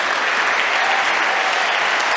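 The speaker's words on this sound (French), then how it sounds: "Je pense qu'on peut les applaudir" An audience at an industry awards ceremony claps for the candidates: dense, loud, sustained applause filling the room evenly from start to finish, with no speech over it.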